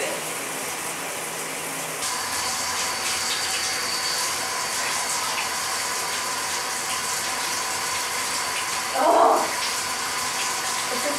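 Water running steadily in a home shower and down the drain, a constant broadband rush that strengthens after a couple of seconds and continues with a brief splash near the end, with no talking.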